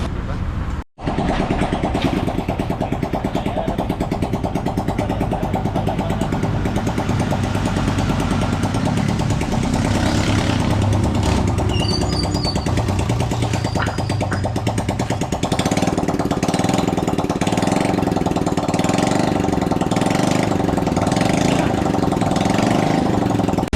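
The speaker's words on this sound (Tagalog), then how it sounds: "rinig na rinig nyo, umandar na din yung motor natin" A just-repaired motorcycle engine starts and then runs steadily with a loud, continuous rattling idle close by, while people talk faintly underneath.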